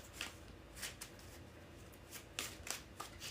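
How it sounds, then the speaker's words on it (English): Cards riffled and shuffled in a few quick bursts, soft papery flutters separated by brief pauses, close and fairly quiet. "I'm going to do 3 more shuffles for the Libra collective"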